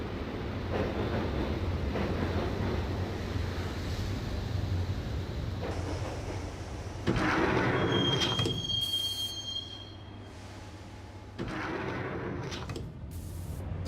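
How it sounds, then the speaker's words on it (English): Train riding on rails in the Max Payne video game, a continuous loud rumble of wheels on track with metallic squeals and a bright whine midway, the tone shifting as the ride goes on. "the train doors had already shut behind me, and I was in for the ride"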